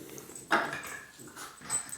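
A dog whimpers in short, soft, high whines, with a brief sharper yelp near the start, close by and fairly quiet.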